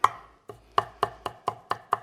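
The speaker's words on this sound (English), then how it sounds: "And we'll chop the garlic roughly" A knife roughly chops garlic on a cutting board in a home kitchen, eight crisp, close taps in a fairly even rhythm, each a sharp knock with a short decay, and no talking.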